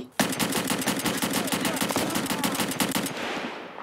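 Rapid automatic gunfire from a thermal-scoped SVD rifle during a forest raid in a video game, a loud sustained burst of closely spaced shots lasting several seconds before cutting off.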